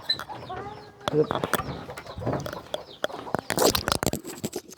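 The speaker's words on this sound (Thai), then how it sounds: "ใช่ไก่ขึ้นเฮือนบ่" Chickens clucking around a rural family home, with repeated close, irregular clucks and squawks over background noise while a person talks intermittently.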